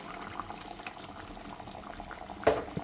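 Thick coconut milk, made with little water, is poured into a Chemballi fish curry as a soft, faint liquid trickle, with a brief louder splash near the end.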